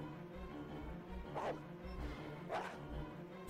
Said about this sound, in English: Stock dog sound effects.